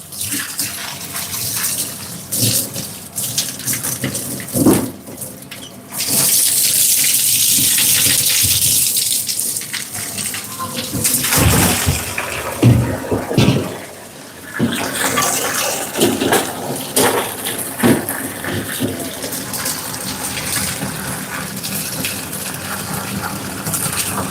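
Water runs into a big kitchen sink for washing food in a busy work kitchen, a steady loud gush from a tap that swells and drops, broken by clatter and knocks of handled items, with no talk.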